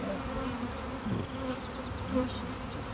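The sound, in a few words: honey bees buzzing at a busy beehive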